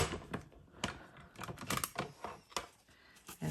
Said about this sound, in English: we're going to die cut that. So again, I'm going to run that through the machine